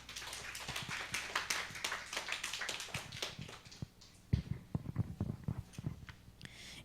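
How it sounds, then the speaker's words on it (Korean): Scattered, uneven hand claps from a church congregation during a Sunday morning youth service, a loose patter of individual claps at moderate level with no talking. "박수."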